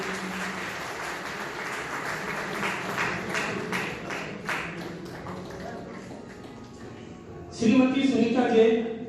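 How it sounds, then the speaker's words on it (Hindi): Light applause at a railway week award ceremony, soft scattered claps for several seconds under a speaker announcing names, followed by a louder burst of voices and music near the end. "जोरदार तालियां स्वागत"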